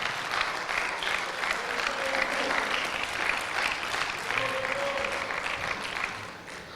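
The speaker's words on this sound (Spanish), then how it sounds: "Denle un aplauso por eso." An audience at a church sermon breaks into sustained, even applause, a thick crowd clatter with a few faint voices mixed in, tapering off slightly at the end.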